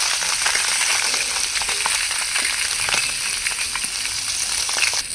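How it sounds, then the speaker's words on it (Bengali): Small kholse fish fry crisp in mustard oil in a kadai, giving a steady close sizzle with scattered crackles and pops and no talking. "মাছগুলো দেখো ভাজা ভাজা হয়ে গেছে পুরো কড়া কড়া করে।"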